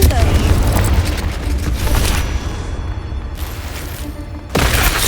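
A Confringo spell explosion in the Hogwarts Legacy video game: a loud, broadband blast and rumble fills the clip, dips briefly in the middle, then surges again with a second heavy burst near the end.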